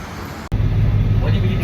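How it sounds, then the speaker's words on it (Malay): Street traffic at a roadside bus stop in Sydney, a steady close roar of passing vehicles with a low engine rumble that cuts out briefly and then returns, with voices in the clip. "So kita akan ambil bas dekat sini, tempat tunggu bas."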